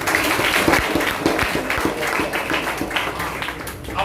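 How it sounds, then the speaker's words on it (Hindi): A lecture audience claps at a Ranchi University talk on Hindi literature, many hands in quick, irregular bursts sustained for about four seconds at close, fairly loud level. "ताली बजाइए"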